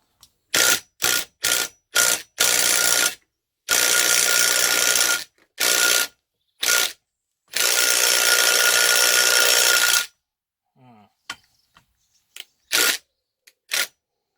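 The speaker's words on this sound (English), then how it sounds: "Try the old drill, see that come out." An old power drill works at a stuck part while a WW2 Zundapp KS600 motorcycle engine is stripped down, firing in loud, close bursts: several short whirs, then long sustained runs, before stopping and leaving a few quieter clicks.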